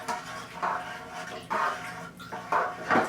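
Grape juice for Pinot Grigio being stirred in a fermenting vessel as chunky clay fining is added, giving close sloshing swirls of liquid in uneven bursts with occasional knocks against the container.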